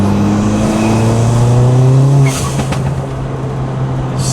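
A 1.6 liter turbocharged car engine revs loudly up through its range and drops back, settling into a steady, beefy idle rumble, close and alone.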